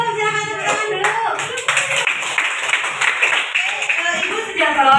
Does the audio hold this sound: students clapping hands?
yes